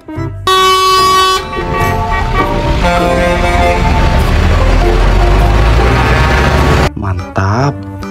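A toy container truck sounds off with loud electronic horn honks and a jingly tune, sustained for several seconds before cutting off, followed by a brief burst of other toy sounds.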